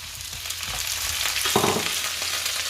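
Mixed seafood hits a hot pan already sauteing garlic and onion, giving a loud, steady sizzle with a brief burst of stirring or tossing midway, no voices.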